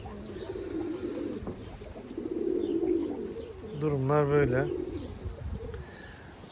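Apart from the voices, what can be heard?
birds cooing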